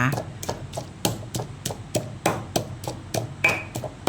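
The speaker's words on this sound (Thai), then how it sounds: "นี่เลยตำทุกอย่างให้ละเอียดแบบนี้นะคะ เราก็ใส่กะปิลงไปเลย" Thai shrimp paste chili dip being pounded in a mortar with a pestle, steady close thuds repeating about twice a second, with someone talking over them.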